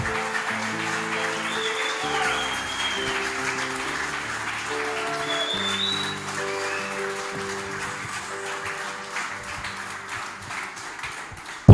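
A church congregation applauds through a service, sustained clapping spread across the room with organ or keyboard chords playing underneath throughout.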